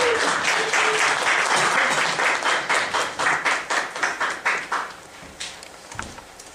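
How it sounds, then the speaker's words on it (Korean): An audience at a launch event for an artists' union applauds to welcome a musician, dense clapping that settles into a few rhythmic claps and then fades out. "큰 박수 부탁드립니다."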